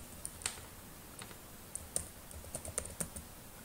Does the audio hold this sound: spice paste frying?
no